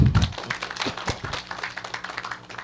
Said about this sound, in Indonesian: Makasih, tepuk tangannya dulu.